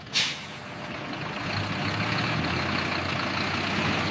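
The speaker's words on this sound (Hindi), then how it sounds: "कड़ी सुरक्षा जांच के बाद ट्रक फैक्ट्री से रवाना होता है" A small truck carrying makhana leaves a factory after a security check, opening with a short hiss of air brakes and then a steady loud engine rumble close by, with no voices.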